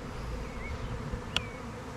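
Dense, continuous buzzing of a honeybee swarm heard close by, with a steady drone throughout and a single bee zipping loudly past near the end.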